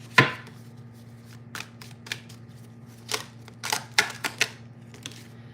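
Tarot cards being shuffled and pulled, producing scattered sharp card snaps and soft slides close by over a low steady hum, sparse and irregular, no voices.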